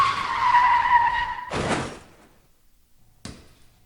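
Tires screech in a long, loud skid as a car pulls out in front, then a sharp thud and a brief clatter after a moment of quiet.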